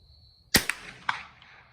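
A single sharp crack of an air rifle shot fired outdoors, followed by a couple of quick smaller knocks as the pellet strikes, close and loud against quiet background.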